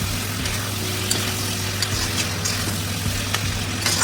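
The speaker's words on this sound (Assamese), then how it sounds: "এতিয়া মই তিয়াই থোৱা মছলাখিনি একেলগে দি দিছোঁ মছলাৰ লগত 5 মিনিট ফ্ৰাই কৰি ল'ম" Masala spices fry in a pan for a dhaba-style chicken dish, giving a steady, close sizzle with faint stirring scrapes and no talk over it.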